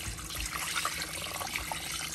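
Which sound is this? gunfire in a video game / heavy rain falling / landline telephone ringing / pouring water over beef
pouring water over beef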